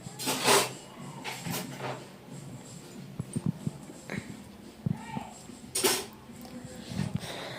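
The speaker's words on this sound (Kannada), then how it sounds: "ಪಾತ್ರೆ ತೊಳಿತಾ ಇದ್ದಾಳೆ ಇವತ್ತು ಅವಳದೇ ಪಾತ್ರೆ" Dishes and pots being washed at home after a festival puja, with scattered clinks and knocks of utensils, nearby and moderately loud, while people talk intermittently.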